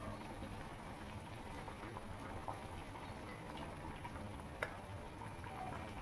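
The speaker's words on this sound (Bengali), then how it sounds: "দেখো, ঝোলটা ভালো মতন ফুটে উঠেছে।" Pabda fish curry with potato and nigella seeds simmers in a pot, a continuous soft bubbling and hiss with a faint clink near the end, close and low in level, no talking.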